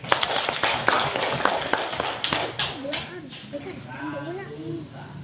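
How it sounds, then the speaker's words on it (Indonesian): Third-grade pupils in a maths lesson clap their hands in a quick burst of sharp, fairly close claps lasting a couple of seconds, followed by a teacher talking. "Oke, tepuk tangan dulu."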